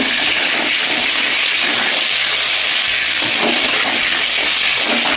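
Pointed gourd (potol) frying in a pan, a steady loud broadband sizzle that continues without a break and has no talk over it.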